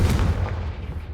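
A Confringo spell blast from the Hogwarts Legacy video game lands as a single sharp, booming burst with a short rumbling tail, loud and close, heard alone.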